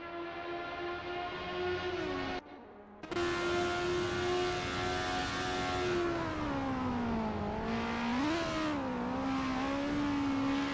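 An Alpine A364 F3 race car engine in Assetto Corsa at Zandvoort holds a loud, steady whine that briefly cuts out, then returns and dips and rises in pitch through gear and throttle changes.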